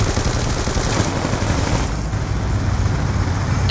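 Sustained loud gunfire from a Warthog airstrike in Call of Duty Black Ops 2 multiplayer, a dense rapid fusillade rumbling continuously throughout with no pauses.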